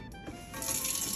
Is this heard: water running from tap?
yes